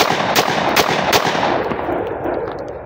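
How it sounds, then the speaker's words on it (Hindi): Sharp gunshots from a TT 30 bore pistol fired one at a time, about three loud cracks in quick succession, close and outdoors with ringing decay. "अब करते हैं ना दूसरे मैगजीन से इंशाल्लाह सिंगल फायर"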